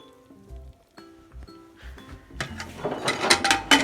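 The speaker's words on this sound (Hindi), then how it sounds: "अब इसमें हम डालेंगे पानी" Tap water runs into a pressure cooker holding turnips, salt, turmeric and jaggery: a few soft clinks at first, then a rising, louder splashing rush that builds toward the end.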